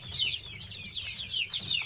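Day-old chicks in a warm brooder give continuous high, rapid peeping chirps, many overlapping, close and moderately loud over a low hum.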